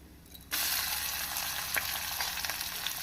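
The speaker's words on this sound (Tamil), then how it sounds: "வெங்காயம், கறிவேப்பிலை போட்டு நாம் 1 நிமிடம் வதக்க வேண்டும்." Chopped onions and curry leaves drop into hot oil with mustard seeds and a loud sizzling bursts out, crackling and popping steadily afterward, close by with no talking.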